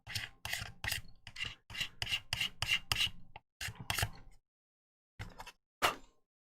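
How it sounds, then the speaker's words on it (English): Sandpaper rubs a plastic Warhammer Baneblade model kit part smooth in short, close scratchy strokes, about a dozen in quick rhythm before a pause and a few last passes, with no talk. "You don't just have to use it for getting rid of nubs, you can use it to smooth surfaces off. And it looks kind of matte where I've sanded"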